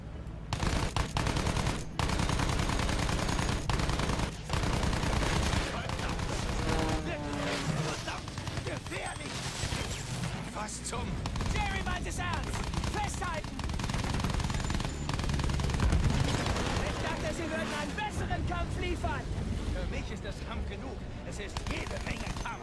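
Aircraft machine guns in the Battlefield 1 video game, long loud bursts of rapid automatic fire with an engine drone behind them and people talking excitedly over it.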